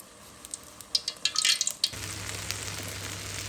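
Small kachki fish set into hot oil in a pan, a burst of sharp crackles and pops that settles into a steady, low sizzle.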